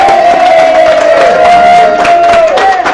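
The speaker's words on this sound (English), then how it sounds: "stand up and let's applaud" An audience at a Sunday church service cheers and applauds loudly and continuously, with whoops and a sustained high cheering tone carrying over the crowd noise.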